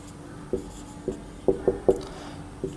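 Pen writing a geometry answer on paper, a string of short faint taps and scratches in an irregular rhythm, with a quick cluster of strokes in the middle, close and quiet with no talk.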